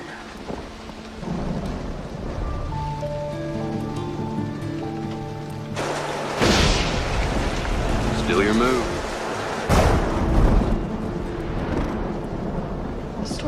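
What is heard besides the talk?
heavy rain storm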